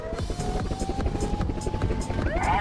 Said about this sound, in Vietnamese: Bố ơi, gửi trực thăng cho con ngay.